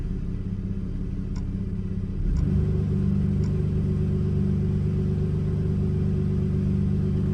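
A 2009 Dodge Nitro with harsh transmission shifting and code P0896 idles steadily, then its engine note drops into a deeper, louder hum with a clear clunk as the lever goes into gear, continuing evenly with no talking.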